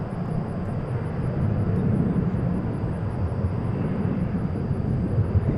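Qantas Airbus A380 at DFW International Airport at night, a steady distant engine rumble and whine as it departs the gate, constant in level with no talk.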